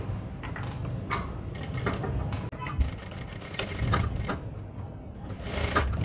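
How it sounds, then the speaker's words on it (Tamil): A sewing machine stitches fabric for a high neck blouse, running in a steady mechanical whir with short pauses and changes in speed, close and fairly loud throughout. "அப்படியே இந்த ஷேப்பில் ஸ்டிச் போட்டுடலாம்."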